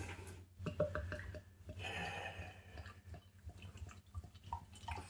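Greene King Ice Breaker Pale Ale poured from a freshly opened container, a steady close liquid gush and fizz running for several seconds with small splashes and glugs.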